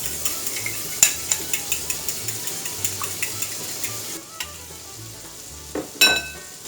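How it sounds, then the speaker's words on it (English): A fork whisks an egg in a bowl with quick, regular taps against the side, while butter melts in a pan nearby. A sharper clink comes near the end. "In the meantime, whisk this egg."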